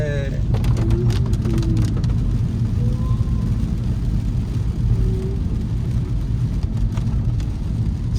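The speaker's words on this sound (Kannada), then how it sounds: "ಏನಪ್ಪ ಇದು ಮಳೆ ಹಿಂಗ್ ಹೊಡಿತಾ ಇದೆ" A dense, steady roar of heavy monsoon rainfall fills the clip, loud and unbroken, with a few faint tonal sounds drifting over it.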